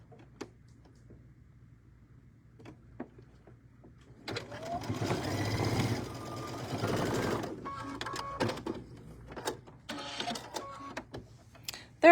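A sewing machine stitches quilt pieces, starting with a few scattered clicks and taps, then running in a fast, steady mechanical whir for a few seconds, pausing, and chattering again in shorter bursts at close range.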